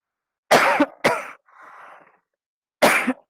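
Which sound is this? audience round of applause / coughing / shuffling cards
coughing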